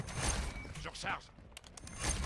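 A weapon reload in a first-person shooter, faint mechanical clicks and metallic ratcheting over low background game noise, brief and quiet.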